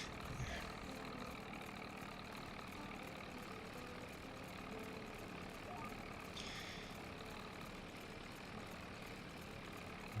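Tractor engine droning in Farming Simulator 22 while the tractor pulls a grass cutter, a faint, steady, continuous hum with no breaks.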